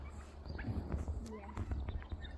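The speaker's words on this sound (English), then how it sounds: "I love the sounds that the turkeys make." Turkeys gobbling in a rapid, warbling chorus, several birds calling over one another at close to moderate distance, with faint low rumbling underneath.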